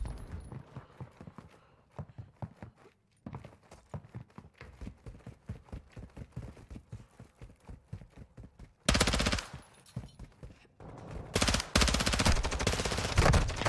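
Rapid automatic gunfire in Modern Warfare 2, sustained bursts of sharp shots in a quick rhythm, with a brief pause before louder, denser firing near the end, close and loud without speech.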